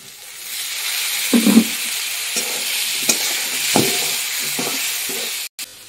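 Potatoes fry in oil with turmeric and salt on a clay mud stove, a steady close sizzle with occasional stirring scrapes and a few spatula knocks, with no talking.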